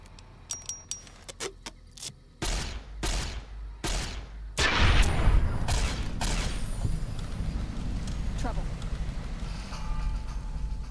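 Laser rifle fire in Fallout New Vegas comes as several sharp, separate shots at first, then gives way to a dense, loud burst of continuous gunfire and explosions that holds steady to the end.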